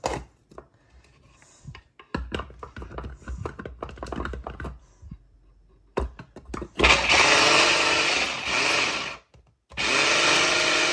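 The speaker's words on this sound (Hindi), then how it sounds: "इस चॉपर से मेरा काम बहुत ही आसान हो जाता है, मिनटों में ये झटपट हमारी चॉपिंग कटिंग कर देता है।" Scattered clicks and clatter give way to an electric food chopper crushing green chillies and garlic in two loud, close bursts of whining motor, each several seconds long, with a brief pause between them.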